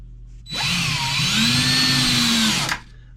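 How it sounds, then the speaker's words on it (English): A power drill whines up to speed and runs steadily for about two seconds drilling through a wall, its motor pitch shifting slightly as it bites in, then cuts off abruptly. Close and loud. "I forgot to look what I'm possibly drilling into down here"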